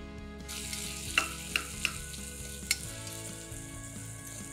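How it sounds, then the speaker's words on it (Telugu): Onions sizzle in hot oil for a vegetable pulao, a steady close frying hiss broken by a few sharp clinks of a spoon or utensil, with no talking. "టపటప అంటూనే ఉల్లిపాయలు వేసేద్దాం."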